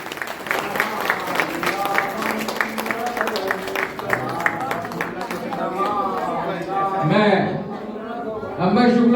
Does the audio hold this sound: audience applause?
yes